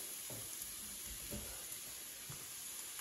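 Bolognese sauce cooks in a pan, giving a steady, close sizzle with a few soft bumps of stirring, alone and without voices.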